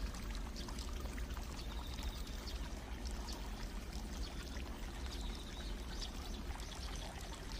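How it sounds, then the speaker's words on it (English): Spring water piped continuously into a basin, a steady, even pouring and splashing that runs unbroken at moderate volume with no voices. "A continuous stream of spring water is piped right into a basin"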